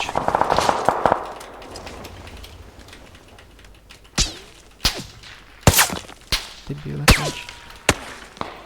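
Scattered gunshots from a video game on the Rondo map crack out one by one, sharp and loud, spaced irregularly after a busier opening, with several loud reports toward the end.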